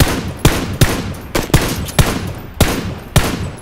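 Single gunshots in a shooter video game crack loud and close, about eight sharp reports spaced roughly half a second apart over a rumbling background.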